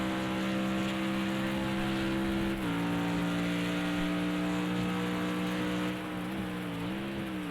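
Heavy rain falls steadily in the Project CARS 2 racing game at the Nurburgring GP circuit, a constant hiss laid over the low, sustained drone of a GT3 race car engine that dips briefly in pitch.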